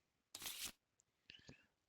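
Deck of cards for the board game Caesar Augustus being shuffled: one crisp riffle burst lasting under half a second, then a few quieter clicks and flicks of the cards, close and faint, with no voices.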